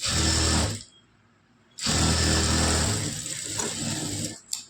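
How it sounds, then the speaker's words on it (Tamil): A sewing machine stitches folded blouse fabric in two loud, steady whirring runs, close up, with a short pause between them and a brief clack at the end. "மடித்து விட்டுட்டு அப்படியே தையல் போட்டுக்கலாம்."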